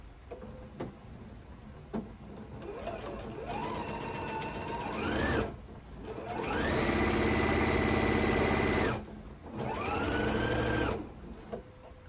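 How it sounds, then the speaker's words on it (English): A sewing machine stitches a scant quarter-inch seam through placemat fabric in three bursts, motor whirring up to a steady high hum and stopping between runs, close and clear with no voices. "we'll sew our seam a scant 1/4 inch all the way down"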